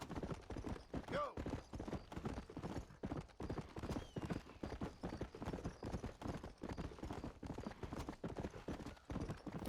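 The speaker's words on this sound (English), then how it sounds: "Barebacking riding horses isn't great." Steady clip-clop of horse hooves from a ridden horse in Red Dead Redemption, rhythmic and continuous across the whole stretch, with a brief whinny early on and occasional voices talking over the hoofbeats.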